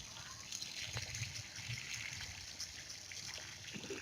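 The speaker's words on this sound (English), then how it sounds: "Just sprinkle water with your pipe, or if you have mug, you can just add water" Water poured from a hose pipe or mug onto a potted crepe jasmine, a soft, quiet trickle and splash running steadily with a few light drips.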